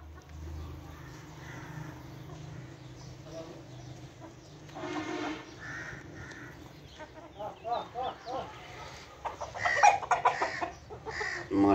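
Black roosters and hens clucking and cawing in a poultry pen, scattered calls that grow louder and busier toward the end, with faint voices in the background.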